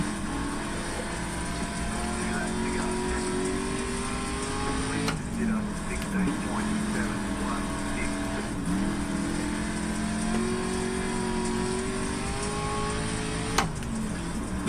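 Race car engines droning and shifting pitch in the iRacing video game on a dirt oval, a steady close engine note with several sharp gear changes throughout.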